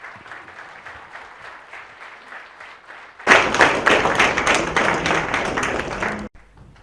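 Audience applause honoring Dr Khadar Valli, the millet advocate, at a talk: light clapping first, then a loud, dense burst of crowd applause that holds steady and stops abruptly.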